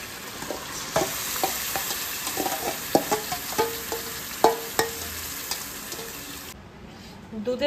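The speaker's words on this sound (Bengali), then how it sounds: "ওইগুলোতেই এখন জাস্ট তেলের মধ্যে ভালো করে কষাতে হবে।" Marinated mutton for biryani is sautéed in oil, a continuous sizzle punctuated by frequent metallic scrapes and taps of a spatula against the pot, ending in quieter background noise.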